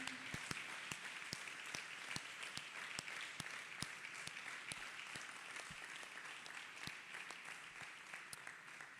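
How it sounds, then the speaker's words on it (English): Church congregation claps hands during a healing service, crisp individual claps in a quick, fairly regular rhythm over a faint wash of broader applause, quiet and somewhat distant. "Clap hands for Jesus Christ"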